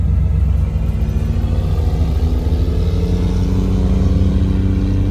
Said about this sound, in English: Check out this first gen Cummins.